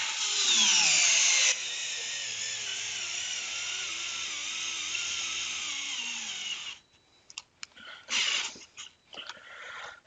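A Craftsman CMCF604 cordless drill runs in a steady, loud whine for several seconds, then cuts off, followed by a few short bursts and clicks.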